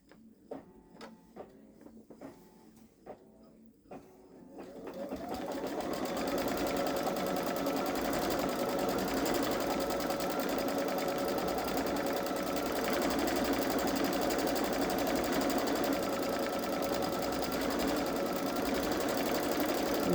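A Babylock Solaris embroidery machine starts after a few soft taps and stitches a steady, rapid mechanical whir with rhythmic ticking as it sews an applique placement line for lilies, close and clear with no talk.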